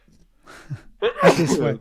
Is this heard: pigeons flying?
no